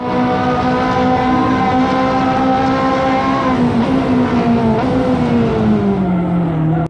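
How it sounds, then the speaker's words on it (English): Ferrari 458 engine in the Assetto Corsa racing game on a long straight chasing an AMG SLS, a loud sustained high-revving wail that holds steady then drops slightly in pitch, continuous and close. "Just listen to the Ferrari chasing the AMG SLS on the long straight."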